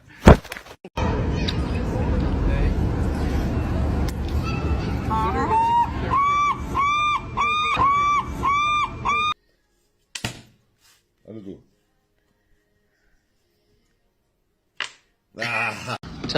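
A duck gives a quick run of about six nasal honks amid general household noise, with voices and thumps before and brief scattered sounds after.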